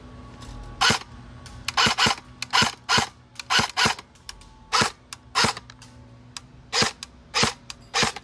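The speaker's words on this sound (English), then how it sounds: "this motor got a lot of whine to it." Airsoft SCAR-L rifle firing in short bursts, sharp mechanical clacks repeating about a dozen times over several seconds, with a whining motor sound between shots, close and loud, no voices.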